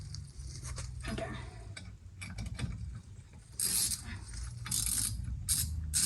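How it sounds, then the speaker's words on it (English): Shorty flexible ratchet with an extension turning a 13/16 socket on a Ford F150, giving irregular metallic clicks and clacks amid shifting mechanical handling noise, fairly close with no talk. "So this is gonna take a while with this 13/16. An extension and a shorty flexible ratchet."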